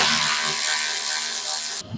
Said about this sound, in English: I'm using a deep well socket and just a little electric wrench to make it a little easier